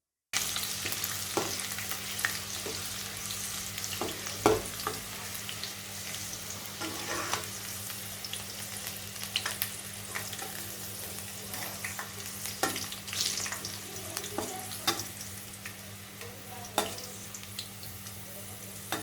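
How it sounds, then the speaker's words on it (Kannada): Crushed garlic fries in hot cooking oil while a spoon stirs it, making a steady, dense sizzle and crackle that runs throughout. Occasional scrapes and clinks of the spoon rise above it. No voices are heard. "ಅಡುಗೆ ಎಣ್ಣೆ ಚೆನ್ನಾಗಿ ಬಿಸಿಯಾದ ನಂತರ ಜಜ್ಜಿರ್ತಕ್ಕಂಥ ಬೆಳ್ಳುಳ್ಳಿನ ಇವಾಗ ಹಾಕ್ತಾ ಇದ್ದೀನಿ"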